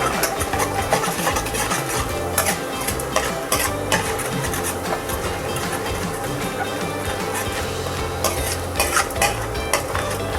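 Garlic deep-frying in oil over a low flame, stirred in a pan for a South Indian curd curry: a continuous dense sizzle with frequent scraping and clinking of a utensil against the pan.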